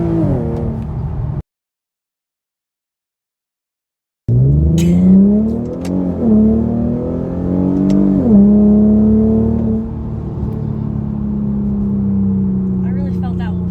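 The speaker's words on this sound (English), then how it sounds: "this 7-speed auto is going to shift just as fast or faster than most people out there" An Infiniti Q50 with a 7-speed automatic accelerates hard, its engine note climbing and dropping sharply at each gearshift, then settling into a steady drone. A brief gap of silence breaks the start, and a voice speaks over the engine.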